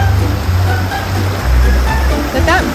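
Vehicle fording a small river on a route near Quepos, with steady rushing, splashing water and a low engine rumble running throughout.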